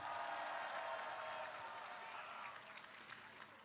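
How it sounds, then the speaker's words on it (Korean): Crowd applause at an outdoor campaign rally in Gwangju, a dense wash of clapping that starts full and slowly thins out, heard from a distance and fairly faint. "우리 정은경 총괄선거대책위원장님께 다시 한번 큰 박수 부탁드립니다"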